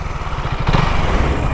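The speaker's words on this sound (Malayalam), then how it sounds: "സ്റ്റോക്ക് എക്സോസ്റ്റ് തന്നെയാണ് വണ്ടിയിൽ, ചേഞ്ചസ് ഒന്നും വരുത്തിയിട്ടില്ല" A KTM Duke 200 on its unmodified stock exhaust idles nearby with a loud, throbbing engine note. The throb swells briefly midway, as though from a light blip of the throttle.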